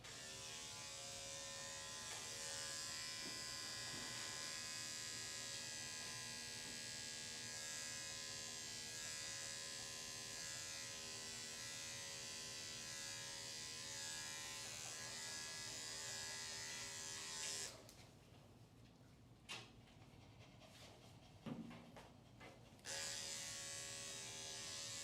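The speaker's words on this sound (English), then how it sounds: "I'm about to turn the clipper on. I'm using a 2 guard, and it is pretty thick and knotty right there." An electric pet clipper fitted with a 2 guard works through a dog's thick, knotty coat, giving a steady close buzz for most of the stretch before cutting out, followed by a few brief soft handling noises.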